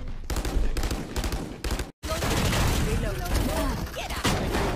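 Gunshots in a video game match, rapid loud bursts and repeated cracks through most of the moment, broken by a brief silent gap, with voices talking over the fire.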